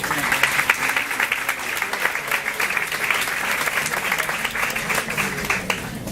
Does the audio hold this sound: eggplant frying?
no